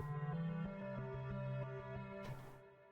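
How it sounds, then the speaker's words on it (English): A reversed, faded-out pluck synth melody pitched an octave lower, made in FL Studio for a beat, swelling through a steady run of sustained harmonic notes with a brief bright burst near the end. "I actually printed the melody out, reversed it, faded it out, and set it an octave below"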